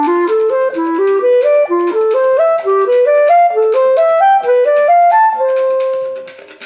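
Seventh-chord arpeggios move through a diatonic fifths progression, each four-note broken chord rising in quick even steps and repeating the pattern at new pitches, played clearly and alone.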